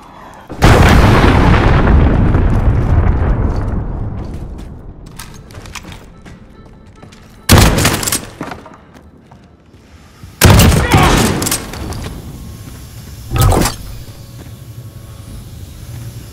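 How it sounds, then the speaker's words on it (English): Cruise missile explosions in Call of Duty: Modern Warfare: one huge, loud blast with a long rumbling decay, followed by three shorter, sharp booming bursts spaced a few seconds apart, with no talking. "Enemy cruise missile incoming!"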